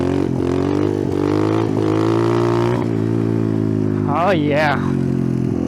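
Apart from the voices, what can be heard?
Icebear Champion off-road motorcycle revving, doing a wheelie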